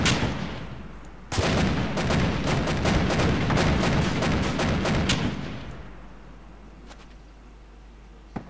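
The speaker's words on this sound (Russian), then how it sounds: "Сзади, говорят, стрельба калаша точно." A long burst of rapid Kalashnikov rifle fire cracks nearby for several seconds during an airsoft game, then fades to a lingering rumble with a few isolated distant shots.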